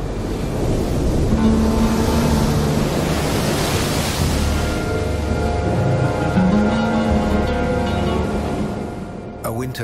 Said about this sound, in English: A storm has gathered in the North Atlantic.